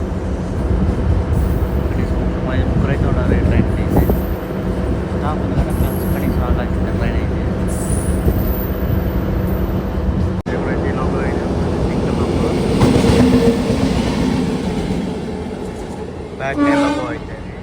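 A DEMU express train running on its route near a small station, a steady loud rumble of wheels and engine throughout, with a brief horn-like tone near the end and people talking faintly over the noise.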